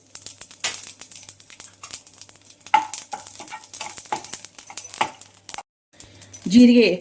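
Cumin seeds spluttering in half a spoon of hot cooking oil in a pan, close irregular crackles and pops with rustling and stirring clatter, brief talking near the end.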